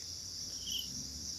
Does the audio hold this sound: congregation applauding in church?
no